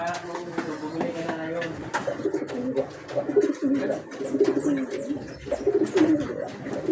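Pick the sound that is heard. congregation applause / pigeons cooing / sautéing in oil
pigeons cooing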